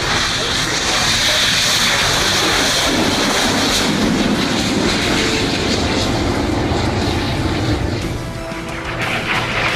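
A loud, roaring Harrier jet with a Rolls-Royce Pegasus engine rumbles and whooshes past nearby at the Farnborough 2014 airshow, with wind buffeting the microphone and a brief dip near the end.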